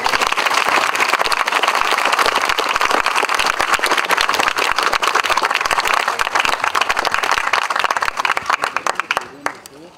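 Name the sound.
audience applauding at a ceremony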